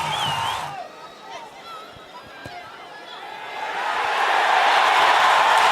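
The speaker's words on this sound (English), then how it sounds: "And the crowd loves it." A rugby crowd at a New Zealand v Sri Lanka under-85kg match cheers a try, with distant chatter swelling into a broad, rising roar over the final seconds under a commentator's voice.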